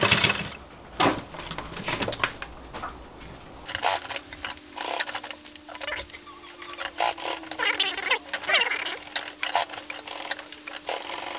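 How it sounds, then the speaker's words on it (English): A heavy-duty sewing machine stitching through folded thick leather for sandals, producing rapid mechanical clattering and ratcheting bursts with a steady motor hum, close and fairly loud, alone without talk. "So that machine isn't really capable of sewing through that much material, but this one is."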